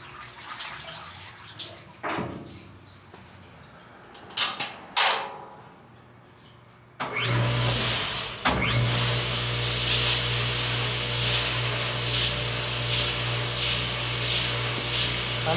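A Landa SJ-15 parts washer switches on partway through and runs steadily, a loud continuous spray of water with a motor hum after a few scattered clunks and taps in a quieter room.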